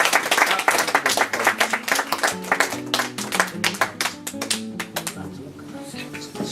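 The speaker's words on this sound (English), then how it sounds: "give them a big round of applause" Quiz audience applauding, dense irregular claps spread across the whole stretch, loud and close at first and thinning slightly toward the end, with a steady background tone underneath.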